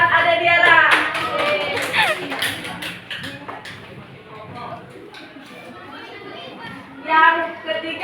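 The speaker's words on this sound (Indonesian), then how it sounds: "Tepuk tangan buat Ade Tiara." Children in a classroom clap for Tiara in a short, uneven burst amid chatter and children's voices, then a quieter stretch and another brief flurry near the end.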